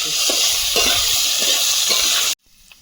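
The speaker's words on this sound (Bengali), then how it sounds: "আলুটা ভালোভাবে ভেজে নেব লবণ দিয়ে" Potatoes fry in oil with salt in a home kitchen, a steady broadband sizzle with faint stirring scrapes that cuts off abruptly near the end, leaving quiet room tone.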